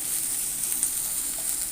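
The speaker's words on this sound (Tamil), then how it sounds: "இதுவும் நல்லா வதங்கட்ட பச்சை வாசனை போகிற வரைக்கும்." Ginger garlic paste sautéing in oil in a pan, a steady soft sizzle with a bright hiss throughout, close and continuous with no voices.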